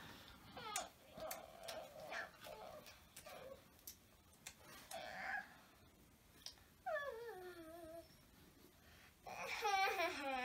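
A person imitates dog sounds with whimpering, yelping vocal glides and short barks, interspersed with soft clicks and quiet talk between them.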